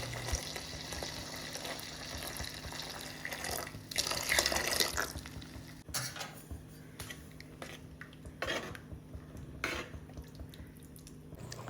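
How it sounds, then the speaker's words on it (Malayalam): Boiled milk pours into a cooking pot in a home kitchen, a soft running, splashing liquid flow with clinks of the pan, steady for several seconds and then breaking into shorter bursts, close up with no talk. "ഇനി നമ്മൾ തിളപ്പിച്ച് വെച്ച പാൽ നമുക്ക് ഇതിലേക്ക് ആഡ് ചെയ്ത് കൊടുക്കാം"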